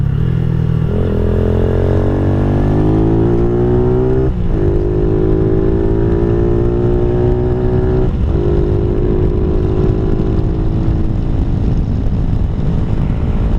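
Venom SS3 / KP mini 150 small motorcycle cruising at speed on an interstate, its engine droning steadily with rising pitch through gear changes, heavy wind rush throughout.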